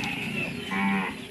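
A breeding cow on an Indonesian cattle farm gives one short, loud moo close by, with no speech over it.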